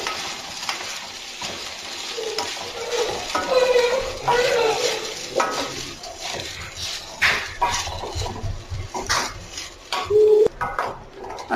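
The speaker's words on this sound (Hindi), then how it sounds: "और अब हम इसे मीडियम आंच पर इस तरह से फ्राई कर लेंगे।" Jeera rice being fried in a kadhai over medium heat, with a spoon scraping and stirring through a steady low sizzle and occasional louder metal clinks against the pan.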